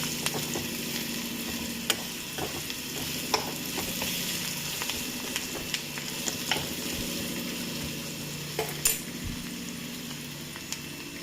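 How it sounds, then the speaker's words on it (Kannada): Cowpeas with salt, turmeric and garam masala fry with a steady close sizzle in a pan while a spoon stirs them, giving scattered sharp scrapes and taps against the metal. "ಸೇರಿಸಿ ಈ ಥರ ಎಲ್ಲ ಚೆನ್ನಾಗಿ ಫ್ರೈ ಮಾಡ್ಕೋಬೇಕು"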